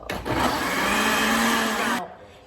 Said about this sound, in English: So put the tomato in the blender and put water.